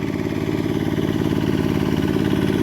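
A ride-on walking tractor used for rice paddy work runs steadily nearby, its small engine chugging in a fast, even throb with no pauses and no voices.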